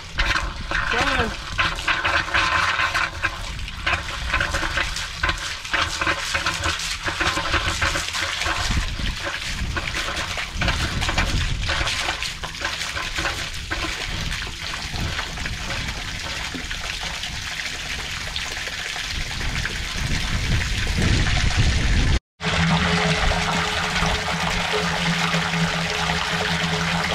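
Water rushes steadily into storage tanks, a loud, continuous flowing and splashing that lasts throughout, with voices talking over it now and then and a brief cut near the end.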